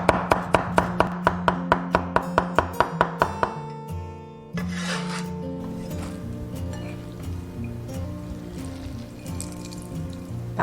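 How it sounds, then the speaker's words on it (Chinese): Green onions are chopped with a knife on a board in a quick, even run of about a dozen crisp, loud cuts. A lower, ringing clatter follows after a short pause. "切一些葱花。"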